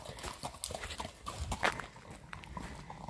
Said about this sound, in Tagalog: Ayan sila guys, oh. Grabe. 4 yung kabayo nilang lalaki.